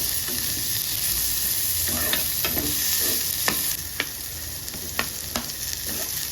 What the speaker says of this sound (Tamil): வெங்காயத்தை சேர்த்து நல்லா வதக்கலாங்க.